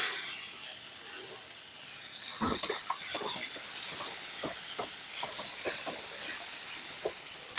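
Tomato, onion, ginger, garlic and green chilli sautéing in a pan give a steady soft sizzle and hiss, with scattered stirring clicks and scrapes running throughout.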